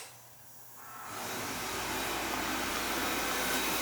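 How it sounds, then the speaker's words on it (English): An oil furnace burner fires up, moving from a faint low hum into a steady, broad roaring rush that holds evenly at close range. "Burner kicked on nice."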